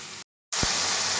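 Chopped vegetables frying in a pan for homemade vegetable chowmein, a steady, dense sizzling hiss that cuts out briefly near the start, then resumes with a low knock.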